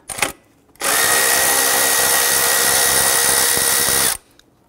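A power tool spins off the 10 mm bolts holding a metal intake bracket on a 4.0L V6 Nissan Frontier, giving one loud, close, high-pitched whirring burst of about three and a half seconds after a brief clunk.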